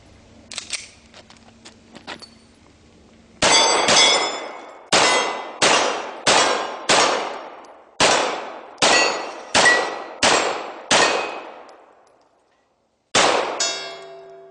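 Shots from a Beretta 92FS pistol ring off a steel target, with about ten loud metallic clangs that each decay slowly. Most come in a quick, even sequence after some faint handling clicks, followed by a pause and then one last clang.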